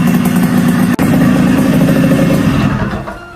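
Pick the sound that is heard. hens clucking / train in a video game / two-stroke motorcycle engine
two-stroke motorcycle engine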